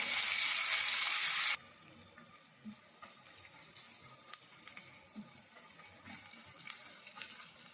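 Chopped onion hits hot oil that already has salt in it, giving a loud, bright hiss for about a second and a half before settling into a quieter crackling sizzle with scattered pops.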